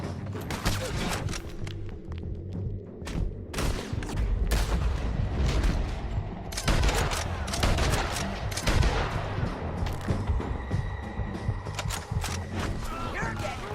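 Dense Red Dead Redemption 2 shootout: rapid volleys of rifle and pistol shots crack and boom in overlapping bursts, near and far, with shouting voices in the mix.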